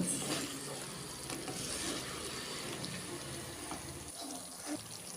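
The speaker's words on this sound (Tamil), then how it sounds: "நல்லா இந்த மாதிரி கலந்து விடுங்க" Chicken sukka is stirred in a hot pan, a continuous close sizzle with repeated scraping strokes of a spoon against the metal, moderately loud and steady, with no voices.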